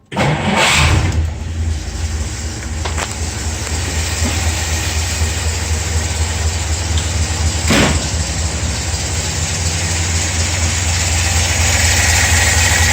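A 1955 Studebaker Speedster with a freshly rebuilt Carter WCFB carburetor cranks and catches, then settles into a loud, steady close-up idle with a slightly fast, even rumble that holds throughout.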